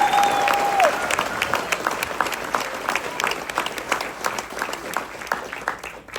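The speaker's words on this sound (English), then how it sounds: "We want you to give him a great big hand." Audience applause and cheering for a steel guitar player at a live country music show, a dense sustained clapping crowd throughout with a brief whistle-like tone at the start, fading slightly toward the end.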